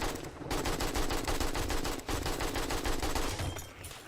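Rapid automatic gunfire in the survival game 7 Days to Die, a long unbroken stream of loud, evenly spaced shots with a brief pause near the middle.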